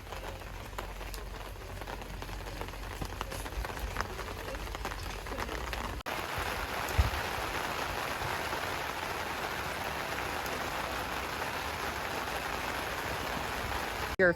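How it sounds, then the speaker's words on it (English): Rain pours down at an outdoor market with a flower bouquet booth, a steady broadband patter and hiss on surfaces that grows denser partway through, with a faint thump near the middle. "It's raining, but the rain's supposed to clear up."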